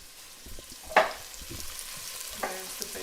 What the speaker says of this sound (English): There's the bacon sizzling away.